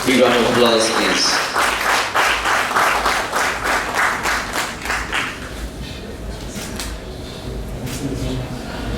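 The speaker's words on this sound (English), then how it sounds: "Big round of applause, please." Audience at a Rotary club award ceremony applauds in a dense, close burst of clapping that thins toward the end, while voices murmur underneath.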